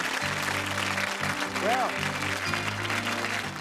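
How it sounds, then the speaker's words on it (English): A studio audience on a 1987 game show claps steadily under background music while a presenter starts to speak. "give them a round of applause, folks, will you?"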